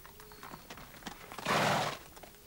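A horse in a 1985 period drama walks with soft clip-clopping hooves, then lets out a loud, breathy neigh partway through before the hoofbeats continue faintly.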